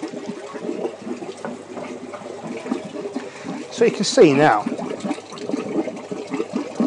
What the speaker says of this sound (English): the water is flowing naturally